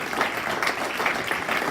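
A church congregation applauds during a Spanish-language worship service, a steady, dense wash of many hands clapping together for the whole stretch with no voices standing out.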